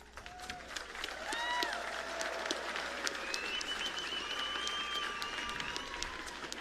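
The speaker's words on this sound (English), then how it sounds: "let's honor them with a heartfelt round of applause" An audience claps at the closing ceremony of the Pacific Mini Games, a broad, steady round of applause with crowd noise. Whistling tones and a few voices rise above it for several seconds.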